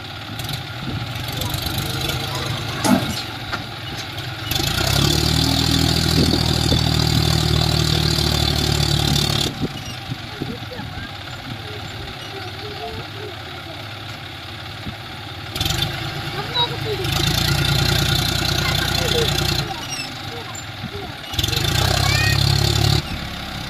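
A John Deere 5105 tractor stuck in mud, its diesel engine droning steadily and surging louder in several long bursts of strain between lower idling stretches, close and dominant throughout.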